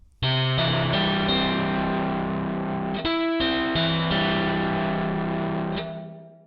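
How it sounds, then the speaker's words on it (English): A heavily distorted, buzzing guitar-like chord processed through Ohm Force's Predatohm distortion plugin rings out loud and sustained, shifting once midway, then fades at the end. "Here I've used Ohm Force's Preditone distortion plugin"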